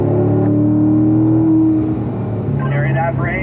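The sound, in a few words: car driving fast on a race track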